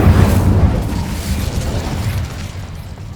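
A fire spell blast cast in a Hogwarts video game during combat: a loud, booming burst with deep rumble that rolls on and slowly fades over a few seconds.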